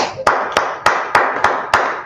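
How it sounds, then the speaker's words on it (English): Seven sharp, evenly spaced claps ring out close and loud at a brisk steady rhythm as people clap for the Lord during a religious talk. "Let's clap it up for the Lord."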